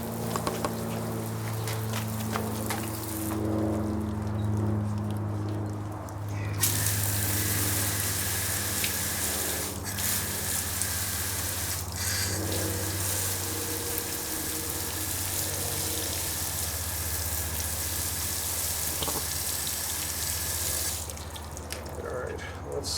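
Water pours from a watering can or hose onto fresh soil in a bonsai pot holding an old raft-style Shimpaku juniper, a continuous close splashing and trickling that shifts in intensity as the flow moves around the pot.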